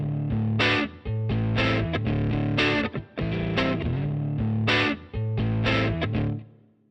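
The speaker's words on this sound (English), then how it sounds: "6V6 models used in vintage Fender Tweed amps from the 50s are known for a throaty distortion." An electric guitar played through a vintage 1950s Fender Tweed amp with 6V6 power tubes gives a throaty distortion, with loud sustained chords and short riffs separated by brief gaps.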